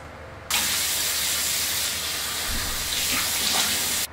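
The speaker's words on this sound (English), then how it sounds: "I'm gonna rinse this off" Water runs steadily from a tap at close range for about three and a half seconds as skincare product is rinsed off, a loud, even hiss that starts and stops abruptly.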